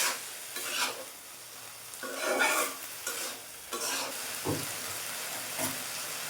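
Potatoes sautéing with tomato for a potato and dried fish curry, a close sizzle and fry under repeated bursts of stirring and scraping in the pan, with no talking.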